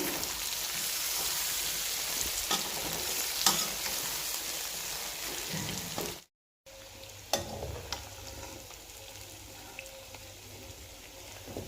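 Two dried red chillies frying in hot oil for a potato sabzi, a steady close crackling sizzle with occasional stirring clicks, briefly cut by a moment of silence before the frying resumes.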